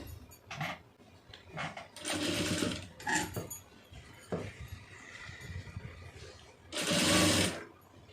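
A sewing machine runs in several quick bursts while stitching a neck design on a soft silk saree, its motor whirring loudly at close range between short pauses, with light handling sounds in the gaps.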